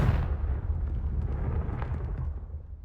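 A Confringo blasting spell explodes in the video game Hogwarts Legacy: a single heavy, booming blast at the start, followed by a rumbling tail that slowly fades over a few seconds.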